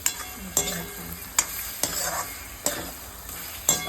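Two ripe red tomatoes stirred in a frying pan for pav bhaji, a steady soft sizzle broken by several sharp scraping strokes of the spoon against the pan, close up with no talking.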